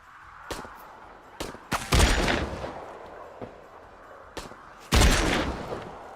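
A big mech in a sandy game battlefield fires tracer rounds in sharp, loud bursts: a few single cracks, then two heavy blasts with rumbling tails, spaced irregularly over a low ambient hiss.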